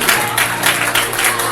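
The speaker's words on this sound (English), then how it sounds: "So clap your hands together for God." An audience claps together at a worship gathering, a dense, steady wash of hand claps filling the space at close range and holding loud throughout, with some crowd voices mixed in.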